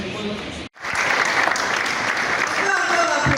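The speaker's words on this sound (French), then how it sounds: "On peut encore applaudir." Audience applause fills a hall during a World Veterinary Day event, loud and sustained after a brief cutout, with a voice speaking over the clapping.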